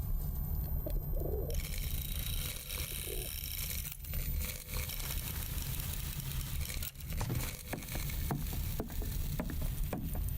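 An evil pigeon in the PC game Ad Infinitum coos through a dense, steady wash of low droning ambience, the bird sounds blending into a continuous murky background.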